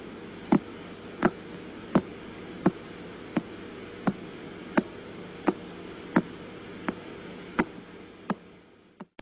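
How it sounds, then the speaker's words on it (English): Pulsar radio signal rendered as sound: sharp, evenly spaced ticks about every 0.7 seconds over a steady hiss, a dozen clicks in a regular rhythm, clear and alone. "That's the sound of what they call a pulsar"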